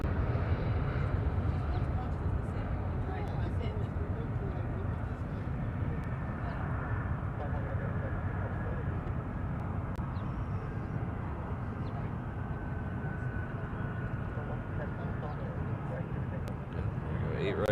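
A C-17 military transport aircraft's engines drone at an airport as it begins to move for takeoff, a steady, fairly distant jet roar with low rumble running continuously throughout.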